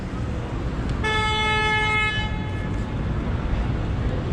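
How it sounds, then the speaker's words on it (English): A car horn honks out in city traffic on Broadway, a single steady blast lasting about a second, partly buried under heavy wind and road rumble from a moving ride. "We got cars honking at each other."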